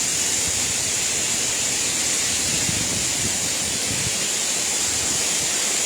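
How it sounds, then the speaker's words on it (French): The broad tufa waterfall at Baume-les-Messieurs in the Jura, below the Dard resurgences, pours in a steady, unbroken rushing roar, close and constant, with no one speaking. "Donc elle est vraiment très large cette cascade."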